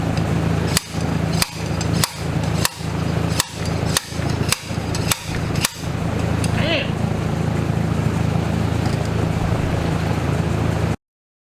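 Hammer blows on a tapered part being driven off a shaft of a Farmall Super A tractor: about nine sharp metallic strikes at a steady, roughly half-second rhythm, close and loud over a low engine-like hum, then continuing hum alone.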